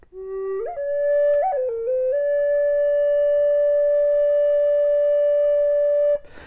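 A Native American style flute holds one long, steady note without vibrato, rising briefly through a few pitch shifts at the start before settling into a clear, sustained tone that stops abruptly.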